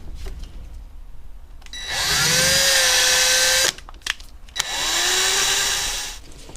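A power drill opens a plastic plug hole out toward 7mm for a Megasquirt install on an NA Miata, in two close, loud bursts of whining motor that rise in pitch, separated by brief clicks.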